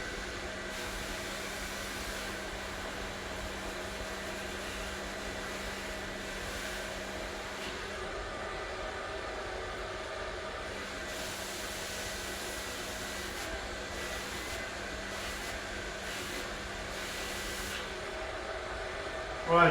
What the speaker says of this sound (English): When I'm gonna turn the blow dryer, tell me if you guys can hear me well.